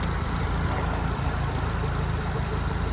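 Renaultsport Clio F1 Team Edition with a K-Tech Racing induction kit idles steadily, a continuous low, even engine rumble held close and loud with no one talking.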